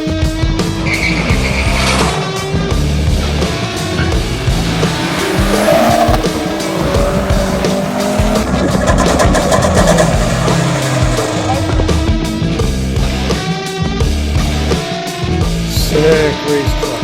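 A no-prep RC drag racing truck revs hard with high-pitched motor whine and repeated tire squeals and skids, loud and close, with other racing noise blending in.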